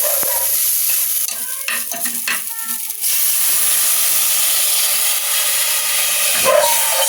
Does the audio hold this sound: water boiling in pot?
yes